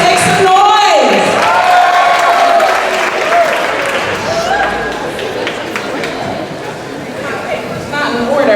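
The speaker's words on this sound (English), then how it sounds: "All right, cheer. Where are you? Let's make some noise." Loud crowd cheering, whooping and applauding fills a high school end-of-year all-sports celebration, a continuous roar with shouts throughout and an announcer's voice briefly heard over it.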